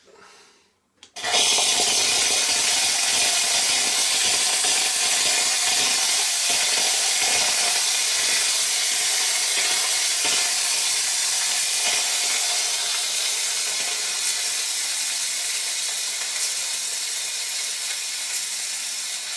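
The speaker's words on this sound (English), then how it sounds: "Okay, now let's steam for a minute." The steam wand of a Gaggia Classic espresso machine bursts on after a brief quiet moment and then holds a loud, steady, close hiss that slowly eases a little toward the end.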